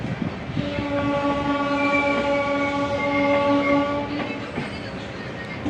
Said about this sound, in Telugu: ఈ ట్రైన్ ఇప్పుడే శ్రీకాకుళం రైల్వే స్టేషన్కి వచ్చిందండి